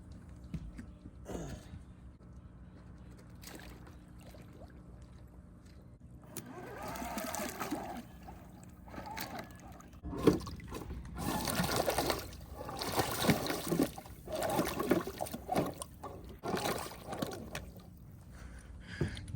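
A Traxxas TRX4 RC truck fitted with box fan blades as wheels churns through water, giving splashing, trickling bursts with a faint motor whine that grow busier and louder in the second half.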